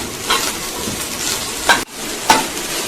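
A spoon stirs food through ghee in a pan while making temple prasadam, giving a close, continuous sizzle broken by a few scraping strokes and a brief pause.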